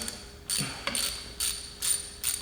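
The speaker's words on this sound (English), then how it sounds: "I'm gonna use the little socket wrench. I'm using a 17 millimeter." A small 17 mm socket wrench ratchets a cap off a pressure washer: four short bursts of quick metallic clicking separated by brief pauses, close and clear, no talk.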